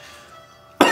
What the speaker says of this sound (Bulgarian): С тази кашлица